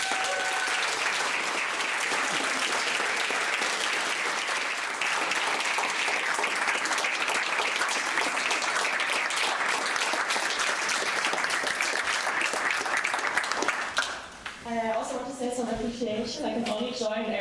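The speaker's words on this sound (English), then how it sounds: "A big applause and appreciation for Matthias" Long, full applause from an assembly audience in Düsseldorf, dense and steady for about fourteen seconds before dying away as a voice begins speaking.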